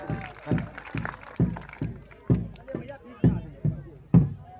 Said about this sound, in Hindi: बहुत एक बार जोरदार तालियां हो जाए सबके